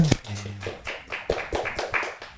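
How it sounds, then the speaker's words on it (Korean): A church congregation claps during a Sunday worship service, a short burst of several sharp, close hand claps in an uneven rhythm, with a bit of background noise between them. "하나님께 영광의 박수 올려드립니다"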